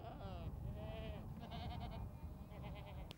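A herd of goats in Alashan bleats in wavering, drawn-out cries that overlap with one another, with a voice also present among them.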